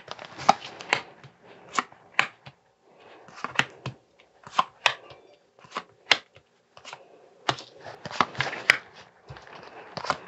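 Oracle cards being shuffled by hand, a run of crisp papery riffles and flicks in irregular bursts with short pauses between, close and fairly quiet, with no talking.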